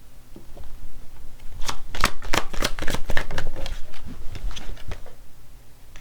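A deck of tarot cards is shuffled by hand close up, a quick run of crisp riffling bursts that swells in the middle and trails off into lighter flicks, with no voices.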